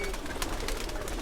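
Pigeons kept by a breeder among quail pens, a dense flock cooing and fluttering continuously close by, with faint murmured background noise.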